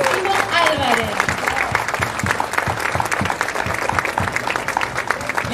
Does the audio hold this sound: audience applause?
yes